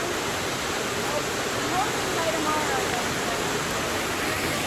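Steady broadband rush of a river flowing over rocks beside a forested campsite in Olympic National Forest, a constant close wash of water with no breaks.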